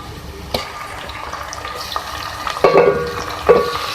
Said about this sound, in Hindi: आपने प्याज को बहुत ज़्यादा नहीं करना फ्राई, हल्का सा होगा।